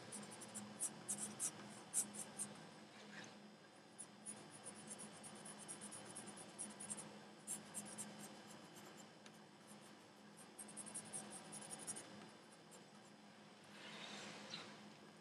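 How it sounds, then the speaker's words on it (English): Pencil drawing an eyebrow on paper gives a soft continuous scratching and rubbing, close and quiet, running steadily with small pauses. "You can pretty much draw the eyebrow any way you want, as long as you put it over the eye."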